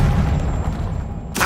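A Confringo blasting spell cast in Hogwarts Legacy: steady game noise with a low rumble, then a sudden bright burst near the end.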